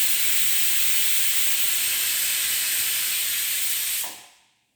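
Steam hisses loudly and steadily from a pressure cooker after its whistles, a broad airy rush that holds for about four seconds, then cuts off and fades quickly to silence.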